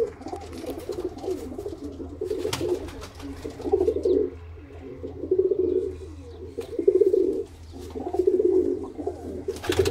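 Sialkoti black-faced pigeons cooing in repeated soft, throaty bursts, several calls close by with short pauses between them, over a low steady background hum.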